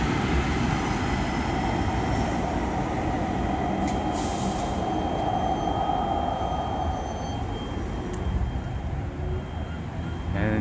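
A train rumbles past steadily nearby at the La Cienega/Jefferson station in Los Angeles, a continuous loud roar of wheels on rails with brief higher squeals, no talking.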